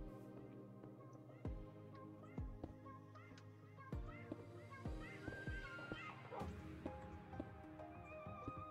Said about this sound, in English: Yes, I captured a doggy.